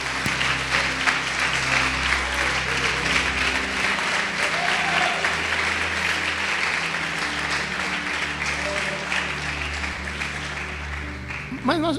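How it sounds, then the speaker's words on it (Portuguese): Church congregation applauding during a service, a sustained dense clapping that fills the space for about twelve seconds, with a voice and some low musical tones beneath it. "Você pode aplaudir o Senhor Jesus por isso."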